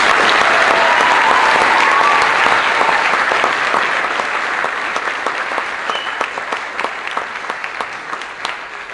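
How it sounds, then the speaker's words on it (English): Audience applause for a student band at a school concert, a loud, dense wave of many hands clapping that gradually thins into scattered individual claps. "Can we give them another round of applause?"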